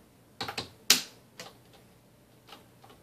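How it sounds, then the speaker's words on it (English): Fingers slamming hard on a computer keyboard during a Minecraft game: a handful of sharp, close clacks in irregular bursts, one especially loud, then fainter taps trailing off, with no talk. "you can hear my fingers slamming against the keyboard"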